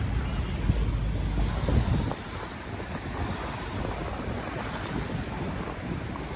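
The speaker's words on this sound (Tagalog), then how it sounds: "malakas po ang hangin at ang hampas ng alon" Strong wind buffets the microphone over the continuous wash of surf crashing at Manila Bay, a rough, loud roar that eases slightly after the first couple of seconds.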